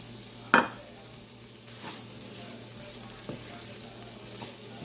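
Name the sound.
stirring asparagus with grated coconut in frying pan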